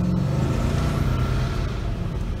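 A 1973 Gran Torino V8 fitted with Holley Sniper EFI runs at a steady, close-up idle, its low engine rumble loud and continuous throughout with no one speaking.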